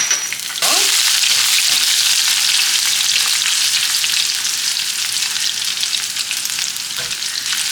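Finely chopped ginger hits hot oil for a tempering in a chili pachadi, bursting into a loud, dense sizzle that holds steady and close for several seconds with brief stirring clatter and no talk.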